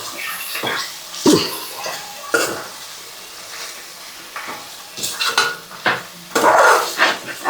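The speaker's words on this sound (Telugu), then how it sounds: "కారం వేసుకొని బాగా వేయించాలన్నమాట" Chicken with curry leaves and chilli powder is stirred in a hot pan, giving irregular scraping and clattering strokes over a moderate sizzle, with louder bursts toward the end; no talking.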